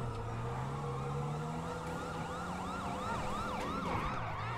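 A police car siren wails in the video game GTA 5, a loud repeating up-and-down electronic siren sweep cycling steadily over an engine drone, with no voices.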